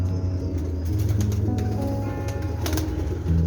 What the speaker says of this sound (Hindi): जालदार फिरोजपुरी कबूतर है, बहुत लाजवाब।